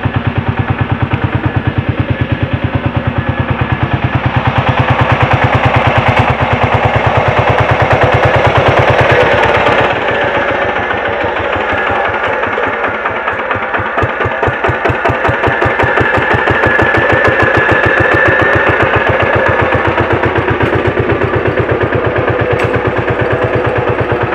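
A power tiller engine chugs loudly and close by in a rapid, steady single-cylinder rhythm, idling and then pulling away for ploughing on a village road. The clattering beat runs continuously for the whole stretch, with no talk over it.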